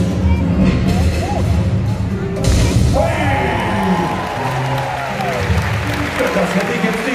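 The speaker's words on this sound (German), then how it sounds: "Applaus, Jubel!" A crowd at a medieval knights' tournament in Kaltenberg, Germany, claps and cheers in a loud, sustained burst, with a swell of applause midway and voices calling out over the clapping.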